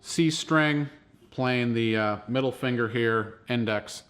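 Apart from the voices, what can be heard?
No everyday noise stands out behind the speech.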